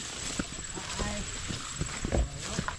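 A horse being ridden on a farm gives irregular hoof clip-clops close by, mixed with light footsteps and background murmur.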